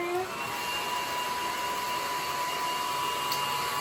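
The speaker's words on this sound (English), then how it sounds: "I'm just blow drying it down" A blow dryer runs as a steady, close, loud whooshing whir while a glued wig is being dried, with a faint tonal whine in the airflow.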